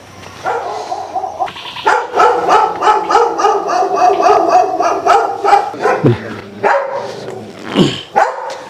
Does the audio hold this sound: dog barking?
yes